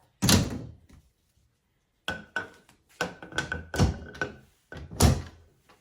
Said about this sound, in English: Now, let's shut the doors.